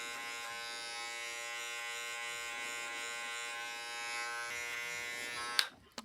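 Electric hair clippers fitted with a 4.5 mm guard buzz steadily and close while cutting hair for a blowout taper. The hum cuts off with a click near the end.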